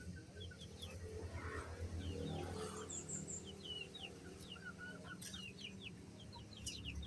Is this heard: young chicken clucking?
yes